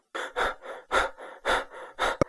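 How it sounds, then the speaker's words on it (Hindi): An animated cartoon boy pants hard after running away from a garden, with five loud, evenly spaced gasping breaths and a brief sharp catch of breath at the end, all close and alone. "वह बगीचे से बाहर आया और एक पेड़ के नीचे खड़ा होकर हांफने लगा।"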